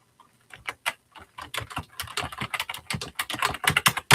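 Fast, uneven clacking of fingers on a computer keyboard, close and clear, with bursts of keystrokes that grow denser and louder toward the end; no voices.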